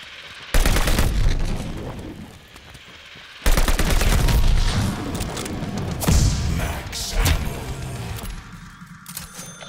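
Gunfire from Call of Duty Vanguard Zombies on the Shi No Numa map comes as loud, dense bursts of rapid shots, with a short pause between two long volleys.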